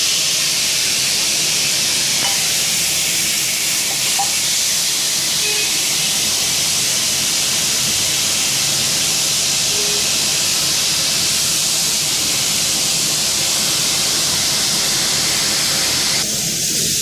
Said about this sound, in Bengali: এবার এইগুলোকে একটা করে দিয়ে দিতে হবে ভাজা করে